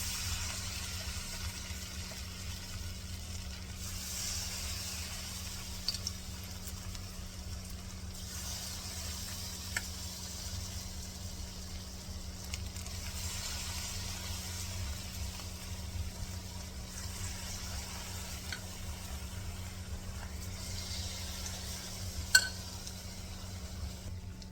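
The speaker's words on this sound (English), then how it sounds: "so when I come back, we'll get ready to fry these up" Jamaican saltfish fritters fry in hot oil, giving a soft, continuous sizzle with occasional faint pops over a low steady hum, quiet and without voices.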